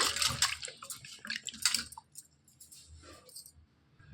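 Indian gooseberries being rinsed by hand in a bowl of water for pickle, with splashing and sloshing bursts, wet squishes and drips, close and intermittent, quieter toward the end.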